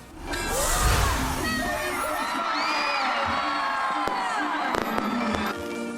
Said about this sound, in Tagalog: sinabayan ng fireworks at malaanghel na boses ng mga estudyante ang pagpapailaw ng kanilang giant Christmas tree